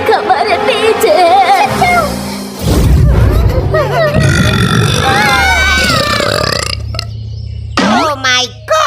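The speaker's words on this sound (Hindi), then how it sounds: "डकार देने वाली परी।" A cartoon fairy lets out long, loud, rumbling burps, mixed with animated voices talking and exclaiming in a Hindi-dubbed animated series.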